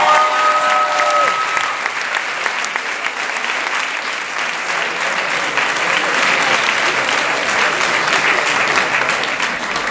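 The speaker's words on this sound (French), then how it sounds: "On va applaudir Nicolas," An improv show audience at the Festival d'Impro de Paris bursts into sustained, dense applause for a performer named Nicolas, loud and continuous, after a brief sung or tonal note at the start.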